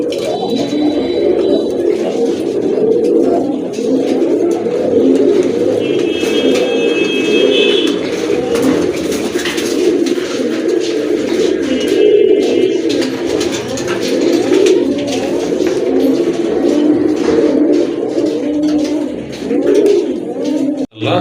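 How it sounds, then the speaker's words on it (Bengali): Pigeons at a pigeon sale, a mix of local and foreign breeds, coo loudly and continuously at close range, many overlapping throaty calls with occasional higher chirps and some rustling. "গড়ার পুতুল গড়ার একটা নট কবুতর আছে এখানে"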